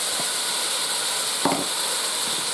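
Onions and a pound of ground meat sizzle in a Ninja Foodi Pro, a steady close hiss of frying with a brief louder crackle burst midway as food is stirred or added.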